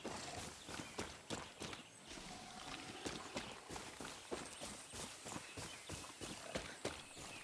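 Horse hooves clip-clop steadily in Far Cry 6, a rhythmic run of distinct hoof strikes over several seconds, fairly close and clear with no voices over them.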